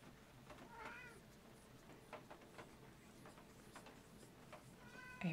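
A cat meows in a room in the horror game Deathwatch: two short, faint meows, one near the start and one at the end, over quiet ticking room ambience.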